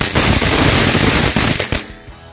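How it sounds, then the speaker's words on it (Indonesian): A small Conic Fountain firecracker fires loudly up close in a dense burst of crackling pops lasting about two seconds before cutting off sharply. "Lanjut kita nyalakan mercon Conic Fountain yang ukuran kecil."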